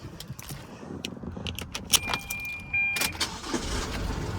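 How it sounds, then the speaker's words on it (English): A 2022 Isuzu D-MAX SX high-rider's engine cranks and catches close by, with keys jangling in the ignition and a brief chime before a steady idle settles in. "Jumping on in to the car, started on up."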